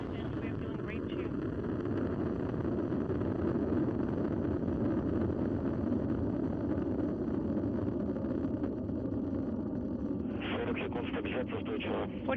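Soyuz rocket's four boosters and core engine roar steadily through first-stage flight, a dense continuous low rumble with a launch commentator talking over it throughout.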